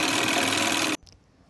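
A sewing machine stitching the corners of folded cloth for a bow and scrunchie gives a loud, steady, whirring run for about a second, then stops abruptly, followed by a couple of faint clicks.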